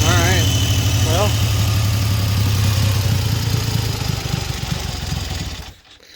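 A 1974 Triumph Trident motorcycle engine idling unevenly because of a carburetor or ignition fault, a close, loud steady rumble that dies away near the end, with brief voices over it.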